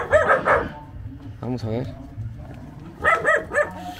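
Dogs barking at an outdoor family celebration, bursts of loud barks at the start and end with a voice speaking briefly in between.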